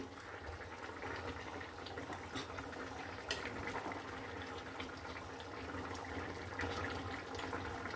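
Fish curry simmering in a pot, a faint, steady bubbling with soft crackle, quiet and close with no voices.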